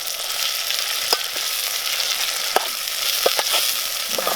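Spices such as cloves, cardamom and cinnamon sizzle in hot oil in a pan for a rustic village chicken curry. The frying is a steady loud hiss, broken by a few sharp clicks from stirring, with no voices.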